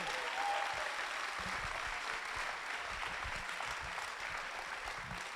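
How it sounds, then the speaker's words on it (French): A church congregation applauds the Lord during a sermon, broad continuous clapping from many people heard at a moderate distance, steady and even, with faint low sounds underneath. "Applaudissez le Seigneur"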